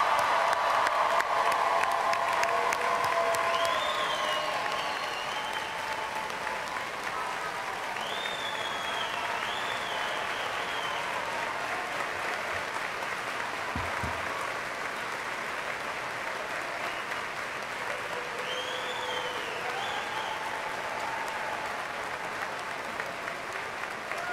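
Crowd at the 2018 Washington & Jefferson College commencement breaks into sustained applause for the graduating class, loud at first then settling into a long, even roar of clapping with scattered cheers.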